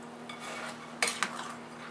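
A silicone spoon stirs melted chocolate and biscuits in a saucepan, giving a soft continuous scrape with a couple of sharp clinks against the pot midway, close up and without talking.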